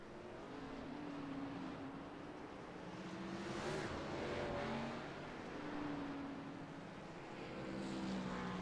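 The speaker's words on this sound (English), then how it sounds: "There we go, cars rolling off from the grid" Race cars rolling off the grid in the iRacing sim, a steady blended engine drone with shifting pitch as the pack pulls away, moderately loud and continuous throughout without speech.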